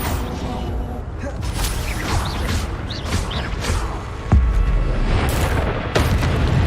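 Repeated fire-spell blasts in Hogwarts Legacy gameplay: loud booming bursts and crackling impacts in quick succession, layered with game effects and a sharp heavy hit midway.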